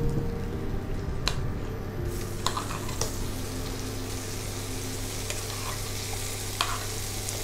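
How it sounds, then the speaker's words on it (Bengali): Paneer fries in butter, giving a steady soft sizzle with occasional scraping and stirring clicks as the pieces are moved around the pan; fairly quiet and continuous with no talking. "আপাতত আমি মাখন দিয়ে এটা পনিরটাকে একটু নাড়াচাড়া করে নেব"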